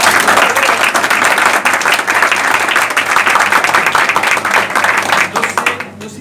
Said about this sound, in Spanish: ¡Aplausitos!